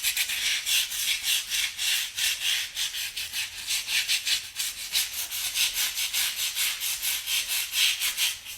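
Scrubbing with a cleaning product in a dirty house makes loud, close, brisk back-and-forth scraping strokes that continue in an even rhythm for several seconds, with no speech.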